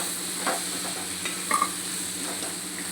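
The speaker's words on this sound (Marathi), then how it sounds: "आता आपण याला सगळं मिक्स व्यवस्थित असं करू." A besan and capsicum mixture is stirred in a pan, a soft steady sizzle with a few faint scraping touches, fairly quiet and with no talking.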